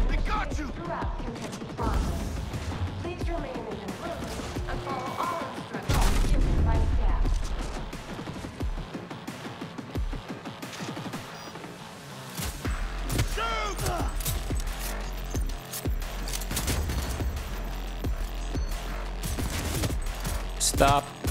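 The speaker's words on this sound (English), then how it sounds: "Okay, that's who's shooting me." Enemy gunfire crackles through a Cyberpunk 2077 firefight, with bursts of shots and clattering impacts layered over game sound effects and a player's voice.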